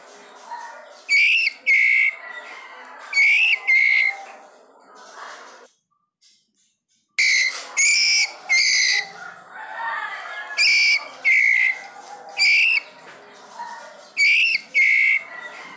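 Repeated bursts of high, whistling calls from a white-rumped shama chick in short clusters, fairly loud and close, with a brief pause midway before the calling resumes.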